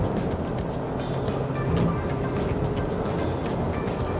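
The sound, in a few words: Honda CR-V accelerating hard in third gear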